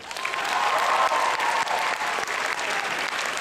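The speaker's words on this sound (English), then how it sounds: "Can I get a big round of applause for all of my staff who have brought this convention to you?" Applause from a convention audience for the staff at the Otakon 2010 opening ceremonies: dense, steady clapping from a large crowd that fills the whole stretch without a break.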